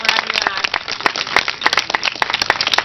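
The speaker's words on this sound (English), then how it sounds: "let's give Paul a round of applause" An audience at a hemp awards ceremony in Boulder, Colorado claps steadily for an award winner, a dense run of close, sharp handclaps throughout.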